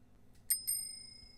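Two bright dings of a bicycle bell, the second ringing on and fading, close and alone against a quiet background.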